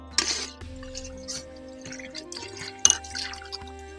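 Water poured from a vessel onto raw rice in a cooking pot for Telugu-style bagara rice, a few splashy bursts with light dripping, then a quieter trickle, close and moderately loud with no talking.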